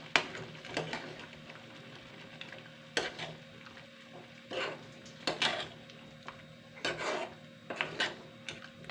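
Yogurt is stirred into chicken gravy in a pan with a spoon, making soft scraping and sloshing strokes that come in irregular bursts over a quiet background hum.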